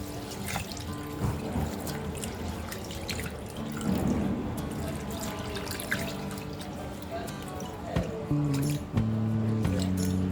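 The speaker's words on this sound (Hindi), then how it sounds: "इसे हम 2-3 बार धो लेंगे।" Two cups of basmati rice are washed in water for a paneer matar pulao: sloshing, squishing grains and dripping, trickling water by a sink, close and continuous, with light clinks of a vessel near the end.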